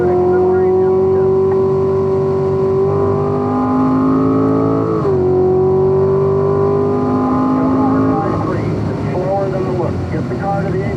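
A Chevrolet Corvette Stingray accelerates on a track, engine note climbing steadily through the gears with audible shifts, loud and close, while someone talks over it.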